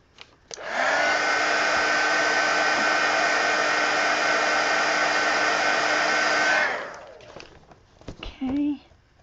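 A hair dryer blows steadily and loudly on wet black paint for about six seconds, then shuts off, followed by a few faint handling sounds.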